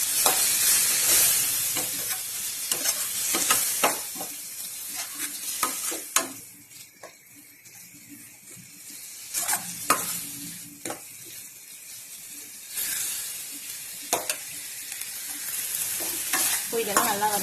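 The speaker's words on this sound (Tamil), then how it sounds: "இது எல்லாத்தையும் நல்லா வதக்கி விட்டுக்கலாம்." Vegetables with turmeric sautéing in a pan for egg bread masala, with a steady oil sizzle and repeated scraping stirs of the spatula that ease off briefly in the middle before picking up again.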